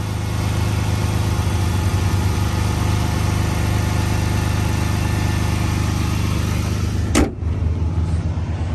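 The 3.7-liter V6 of a 2007 Dodge Charger idles with a steady low hum and a faint whine above it. A sharp click near the end briefly cuts the sound before the idle resumes.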